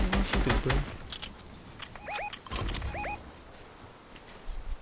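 Gunfire crackles in a Fortnite-style shooter match, a dense burst of shots at the start followed by sparser pops and short electronic chirps, all fairly loud and close with no talking.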